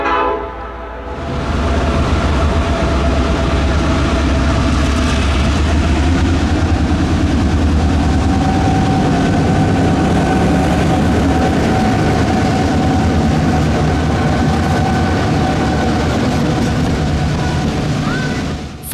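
A Lehigh Gorge Scenic Railway train pulled by two GP38-2 diesel locomotives departs in the anthracite region with a loud, sustained engine roar and horn tones, heard up close throughout.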